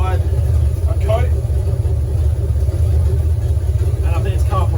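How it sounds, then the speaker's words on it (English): A Ford F100 engine runs steadily to cure freshly painted exhaust parts, a loud, constant low rumble with a faint voice briefly audible beneath it. "The F100 is doing its second run in on the exhaust paint"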